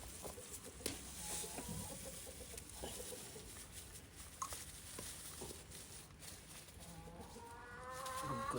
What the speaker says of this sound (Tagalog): alis dyan manok